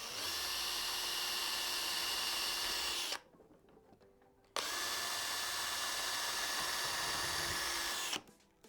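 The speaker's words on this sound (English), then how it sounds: "I'm going to drill a small little pilot hole" Power drill boring small pilot holes for screws into a DJ console, two loud sustained whirring bursts of about three seconds each separated by a quiet gap, with a third burst starting at the end.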